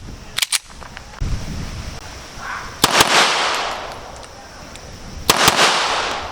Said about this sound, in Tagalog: Okay, firing.